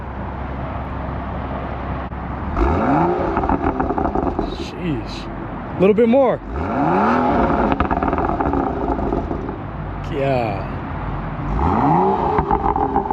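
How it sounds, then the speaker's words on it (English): A BMW M235i revs repeatedly, its exhaust rising and falling in loud sweeps with crackling burbles between pulls, close to the car; people talk and react over and between the revs. "She says she likes the burbles the most."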